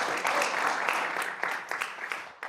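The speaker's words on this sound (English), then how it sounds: "Keep those applause" An audience at a school district board meeting applauds an honored elementary school, a continuous spread of many hands clapping at moderate distance, thinning slightly toward the end.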